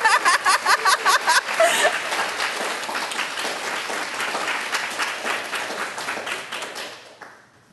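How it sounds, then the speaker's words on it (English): A crowd applauds after a talk on fiction and nonfiction books, starting with a few sharp close claps that spread into dense, steady clapping with a little laughter before tapering off. "Any wild applause?"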